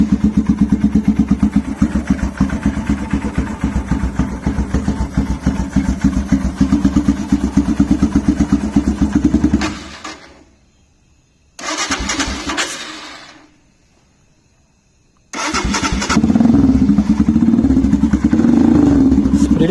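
A Royal Enfield Himalayan motorcycle fitted with an Autologue FT411 aftermarket exhaust idles loudly with a fast, throbbing low thump, cuts out, briefly restarts, goes quiet again, then fires back up into a steady, close idle.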